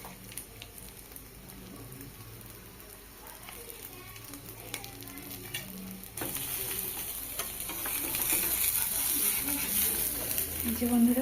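Cracked egg frying in hot oil for an egg roll, a soft steady sizzle that grows louder and brighter partway through, with faint clicks over it.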